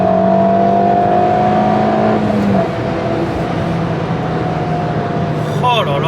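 A Fiat Punto Abarth Evo driven hard on a small road, its engine droning loud and steady with a falling pitch as it brakes, and a brief tyre squeal near the end.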